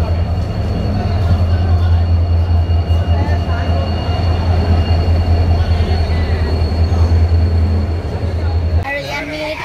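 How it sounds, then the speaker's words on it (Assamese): A train rumbles steadily through Badarpur station with a loud, continuous low roar and wheel noise, cutting off abruptly near the end. "এয়া আমি বদৰপুৰ ষ্টেচন আহি পালো আৰু আমাৰ ট্ৰেইনখনো আহি গল"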